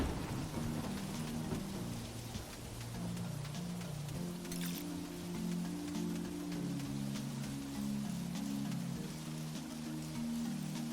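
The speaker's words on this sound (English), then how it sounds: "Oh, it's raining, so I don't have to water it." Steady rain patters continuously in the video game Monster Harvest beneath a low, droning musical tone, with no voices.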